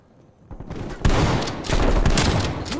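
Gunfire rings out in Call of Duty Black Ops Cold War, a quiet start giving way to loud, close shotgun blasts and overlapping shots in rapid succession, with no one talking.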